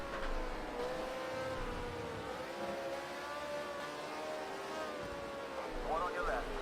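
In Project Cars 2, the engine of a Lotus Type 25 race car at Brands Hatch Indy hums and revs steadily with shifting pitch, moderately loud, while someone talks over it.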